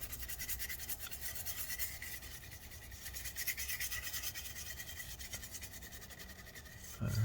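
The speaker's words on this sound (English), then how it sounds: "we're just going to spray it. It's nice because it turns dark when you have the rubbing alcohol on it" A brush scrubs rubbing alcohol over a 13-inch Retina MacBook Pro A1502 logic board during mold cleanup, a soft rapid scratchy rubbing in steady strokes, quiet and close, with a brief bump at the end.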